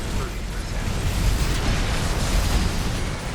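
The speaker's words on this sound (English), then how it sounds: "Oh, and the Coral Missiles blindsided me." Coral Missiles exploding in the mech combat game Armored Core 6: a dense, loud wash of blasts and bursting pops over mechanical battle noise, continuous for a few seconds.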